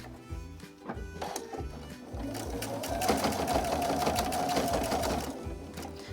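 A sewing machine back-stitches a pleated fabric mask, its close mechanical whir starting in short bursts and then running steadily and loudly through the middle before easing off.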